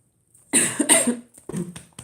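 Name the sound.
person coughing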